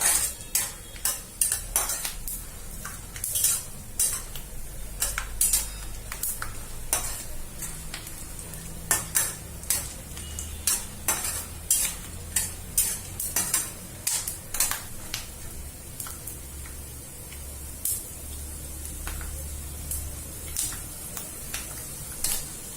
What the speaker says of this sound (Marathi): शेंगदाणे चांगले ब्राऊन रंगाचे होईपर्यंत मस्त भाजून घ्यायचे